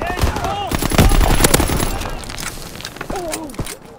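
A blunderbuss shotgun in Call of Duty WWII fires in a cluster of loud blasts amid other gunfire on a tiny map, with in-game sound effects and players talking over the shooting.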